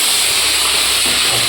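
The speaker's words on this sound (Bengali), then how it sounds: "কড়াইতে দিতে না দিতেই পুরো তেল ছিটকে এসছে।" Wet potatoes hit hot oil in a wok, and a loud, dense, close-up hiss of spitting and splattering oil fills the brief moment without a break.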